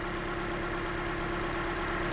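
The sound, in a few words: Toyota Corolla engine idling rough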